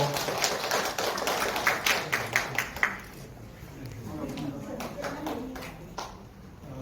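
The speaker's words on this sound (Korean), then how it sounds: "박수로 환영해 주십시오." Brief round of audience clapping welcoming a professor before his lecture at a memorial event for fishermen killed in the Dokdo bombing, a burst of taps in the first three seconds that fades out under a murmuring room.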